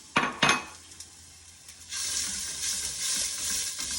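White onion sautéing in a pan for bolognese, starting with a couple of sharp clanks of a utensil against the pan, then a rising steady sizzle with soft stirring sounds.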